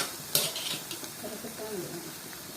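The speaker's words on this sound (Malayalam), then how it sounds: "ഇതെല്ലാം കൂടെ ഇട്ട് നന്നായിട്ട് ഇളക്കി കൊടുക്കണേ" Pre-cooked clam meat is stirred in a frying pan, opening with a sharp metallic scrape, then quiet sizzling and soft spatula scraping that carries on at low volume.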